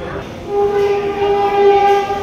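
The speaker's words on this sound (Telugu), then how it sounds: "కాచిగూడ రైల్వే స్టేషన్ ఇది" Ambience at Kacheguda railway station, with a sustained train horn tone sounding over the rumble of trains and general platform noise, fairly loud and near.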